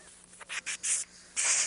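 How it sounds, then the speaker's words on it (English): Airbrush spraying dark blue paint over black on a T-shirt, heard as several short hissing bursts that grow longer toward the end, close and fairly quiet with no talk. "I'm going to spray over that that black that I just put down with blue"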